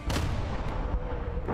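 Weapon fire in the Battletech tabletop video game MegaMek: a dense, loud, continuous roar of artillery-like booming with no pauses, ending in a fresh burst.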